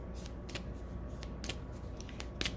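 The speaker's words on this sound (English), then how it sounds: "Let's shuffle." Tarot cards are shuffled by hand in quick, crisp riffling bursts that repeat every half second or so over a steady low background hum, close and fairly soft.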